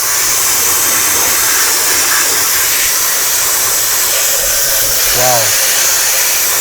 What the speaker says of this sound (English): We've got the turbofan, it's already on.